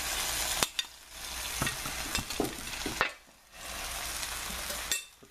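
Lamb sears in a hot pan with a steady, close sizzle, broken by several brief clatters and stirring bumps and two short dips where the hiss fades before returning; no one speaks.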